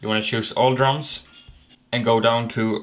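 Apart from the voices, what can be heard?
No everyday noise stands out behind the speech.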